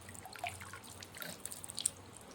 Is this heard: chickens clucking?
no